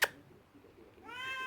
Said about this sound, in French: Il miaule bien, hein.